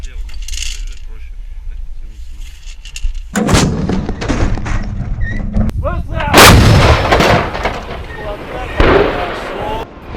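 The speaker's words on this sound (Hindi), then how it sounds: "मल्टीपल रॉकेट लॉन्चर से घातक अटैक किए हैं रूस ने यूक्रेन पर" Multiple rocket launchers fire during a Russian attack on Ukraine, with a sudden heavy roar of launches and blasts breaking in after a quieter start, followed by repeated loud bursts and crackling, with voices in the background.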